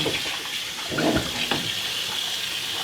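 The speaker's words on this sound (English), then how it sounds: "You want to run each sink and shower until it runs clear." Water runs steadily from a sink tap while the lines of a camper's water system are flushed, a continuous close gushing with a few small splashes and knocks.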